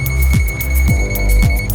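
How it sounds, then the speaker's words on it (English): An ANENG SZ303 pocket multimeter in non-contact voltage detection mode gives a loud, steady, repeating beep alarm, with three evenly spaced pulses sounding alone. "issue a beep alarm when a voltage is detected"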